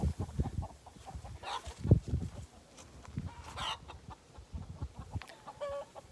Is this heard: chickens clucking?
yes